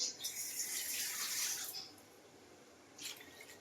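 Water pours into a fish and vegetable curry in a steady, fairly soft stream for nearly two seconds, then a brief second splash follows after a pause.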